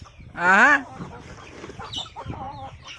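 Free-range desi farm chickens give one loud, drawn-out call up close, followed by softer scattered clucks and low background noise.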